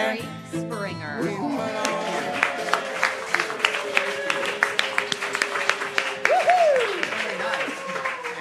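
A live studio audience applauds on a talk show, with the clapping running steadily under the host's talk throughout.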